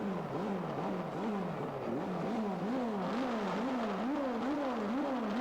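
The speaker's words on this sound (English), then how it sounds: "Floyd Hunts, a dual-engine Kawasaki two-stroke machine against Neil Lane" A dual-engine Kawasaki two-stroke drag racing motorcycle buzzes and wails from a distance at a drag race, its pitch rising and falling in quick repeated revving surges.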